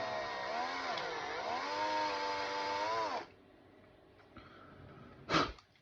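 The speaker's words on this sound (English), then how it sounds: "So I'm just going to drill this hole out a little bit." A small 5/64 bit drills out a pilot hole for a screw during a wheel swap, a steady whining drill tone with wavering pitch for about three seconds before it stops, followed by quiet room noise and a brief sniff.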